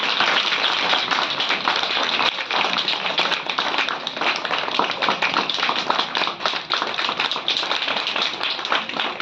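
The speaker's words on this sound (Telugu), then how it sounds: "కొట్టండి, గట్టిగా చప్పట్లు కొట్టండి." Sustained loud applause from a church audience at an anniversary felicitation, dense overlapping hand claps filling the hall without pause.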